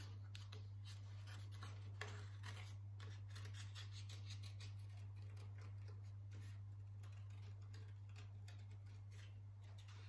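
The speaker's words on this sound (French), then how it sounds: "Et ensuite, on a de nouveau les cercles à couper." Scissors cutting out paper circles for a unicorn-themed scrapbook card, heard as a long run of soft, rapid snips close by, faint over a constant low electrical hum.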